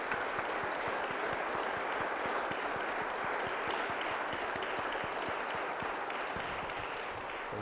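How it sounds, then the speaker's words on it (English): Audience applause for panelists after a bipartisan energy policy discussion, a dense, steady round of clapping from a sizable crowd lasting several seconds, no talking. "Let's give a round of applause for our panelists"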